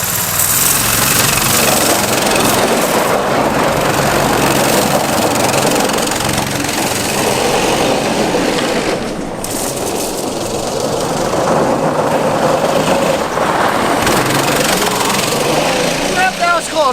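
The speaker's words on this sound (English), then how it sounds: "The dual engine go-kart is back in business." Two small engines on a dual-engine go-kart run loud and close, with a continuous rough, rattling drone that carries on for the whole stretch, and voices talking over it.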